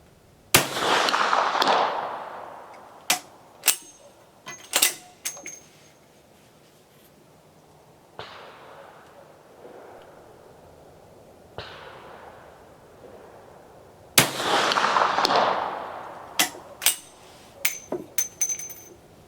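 Shots from a 10.4x38mm Swiss Vetterli rifle at a 200-yard range: two loud, sharp reports with long rolling echoes, separated by several seconds, plus scattered clicks and clatter of handling between them, no voices.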